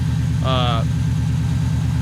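A Subaru Legacy GT engine idles nearby with a steady low throbbing pulse, and a short beep-like tone sounds briefly over it.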